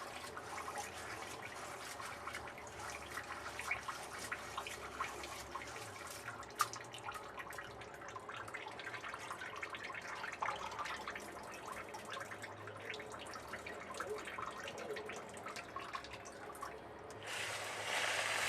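Rice being washed with water in a traditional glazed clay pot, with a continuous splashing, trickling wash of water and small drips throughout. The sound grows louder and fuller near the end as water is poured out.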